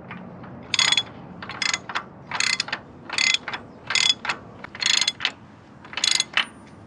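A ratchet works a self-locking nut on a Nissan diesel tractor, about a dozen crisp, close metallic clicking bursts in a steady back-and-forth rhythm.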